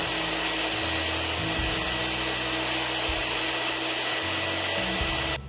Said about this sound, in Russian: Моющим пылесосом собираем грязный раствор с ковролина.